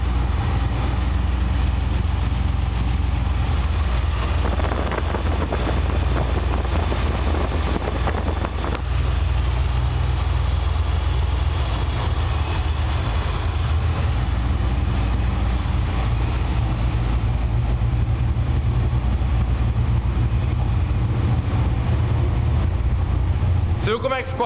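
A naturally aspirated Dodge engine with loaded lifters idles steadily and loudly with a constant low rumble, heard close up in a workshop. The idle holds even throughout, with a slight change in texture partway through.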